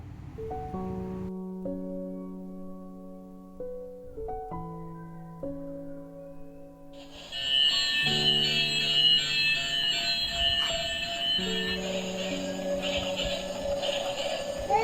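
A toy train plays a simple electronic tune, then switches to a louder, buzzy whistle-like sound effect with chiming notes continuing underneath.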